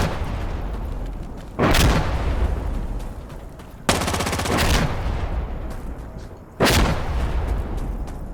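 Artillery or gunship explosions in the shooter game Insurgency Sandstorm: three heavy booming blasts a couple of seconds apart, each with a rumbling tail, over a low background of gunfire.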